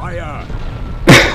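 A cannon fires in the airship game Air Buccaneers, one loud boom near the end, after a stretch of low background rumble and faint tonal game sounds.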